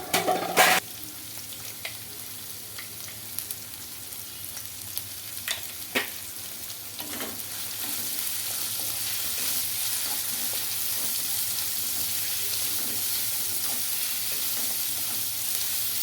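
Chopped onions and green chillies fry with salt in a pan, a steady sizzle that grows fuller after a few clattering stir sounds at the start, with occasional spoon scrapes.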